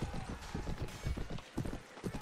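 Horse hooves clip-clop in Mount & Blade: Warband, a run of quick, uneven thuds under dense battle noise, fairly close and moderately loud throughout.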